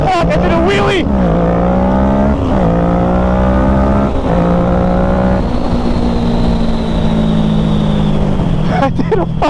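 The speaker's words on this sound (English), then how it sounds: "Holy fuck, I did a wheelie!" A motorcycle engine revs hard and loud during a late-night ride as the rider pulls a wheelie, the pitch climbing and holding under excited shouting from the riders.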